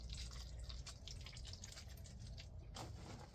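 Water poured over freshly planted seedlings indoors, a soft steady trickle with light splashing and drips, faint and close, with no talking.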